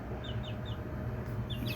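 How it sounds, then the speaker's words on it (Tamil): Farm chickens, a rooster and hens, cluck in short repeated chirpy bursts over a steady background rumble, fairly close and moderately loud. "இது சேவல், இது சேவல், இது நார்மல் கோழி"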